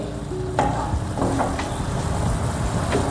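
A strawberry syrup mixture sautés in a pan, a close, continuous bubbling sizzle broken by a few sharp clicks and scrapes of a stirring utensil, with no talking.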